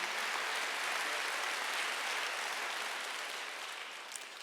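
A church congregation at a Wednesday worship service applauds, a continuous dense clapping that starts full and gradually tapers off toward the end, with no voices over it.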